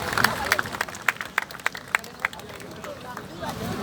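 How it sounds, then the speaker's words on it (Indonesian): Scattered clapping from a crowd at an Indonesian student protest rally outside the presidential palace, a sequence of distinct, fairly sharp claps at an uneven rhythm over a murmur of voices, thinning out toward the end. "Ya, berikan tepuk tangan kawan-kawan."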